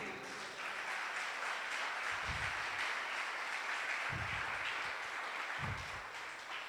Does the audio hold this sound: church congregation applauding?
yes